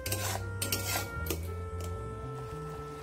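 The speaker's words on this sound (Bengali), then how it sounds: "কন্টিনিউ নাড়িয়ে যেতে হবে" Dragon fruit paste being stirred into a thickening jelly in a wok, with steady scraping and rubbing of a spoon against the pan under a continuous background hum and tonal music.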